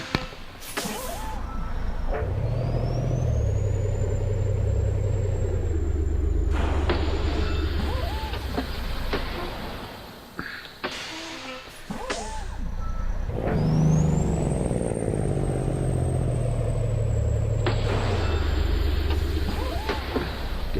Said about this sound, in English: Gearbox is definitely getting a workout this time round.